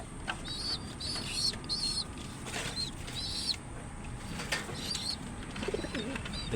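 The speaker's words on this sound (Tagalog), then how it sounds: "Ang kalapati kong malaki guys." Pigeons coo repeatedly in soft, rounded calls at moderate distance over a steady outdoor background hum, with a few wing flutters between the calls.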